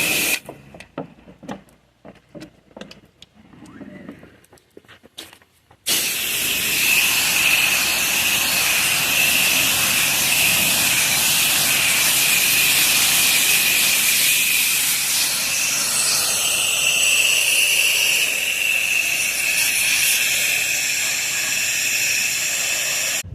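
A pressure washer with an M5 downstream nozzle rinses down the back of a house. After a few quieter seconds of clicks, a loud, steady hiss of high-pressure spray runs on without a break.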